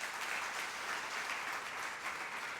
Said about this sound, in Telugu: చప్పట్లు కొట్టాలి ఇప్పుడు మీరు